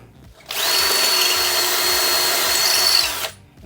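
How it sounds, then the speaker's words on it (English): A power drill bores into a brick wall in one loud, continuous burst of about three seconds, high-pitched and grinding, starting and stopping abruptly. "So I'll give it a bit more of a drill."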